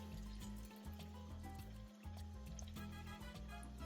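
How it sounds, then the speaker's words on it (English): Liquid trickles and splashes steadily as stock water is poured into a pot for pav bhaji, a soft continuous stream with faint kitchen clatter underneath. "now I'm gonna add in a little bit of water from this stock"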